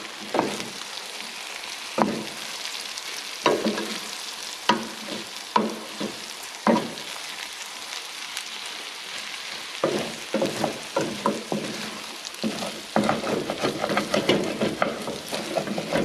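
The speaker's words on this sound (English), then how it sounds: "I do feel like I need to let things fry up a little bit so that the burritos just aren't wet" Burrito filling sizzles steadily in a hot pan, with repeated scraping and stirring strokes cutting through the continuous frying hiss, close and fairly loud throughout.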